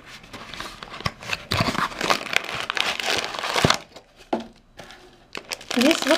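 Crinkling and crackling of a plastic package of wheat grain being opened up close, irregular rustles and tearing bursts with a voice speaking briefly near the end.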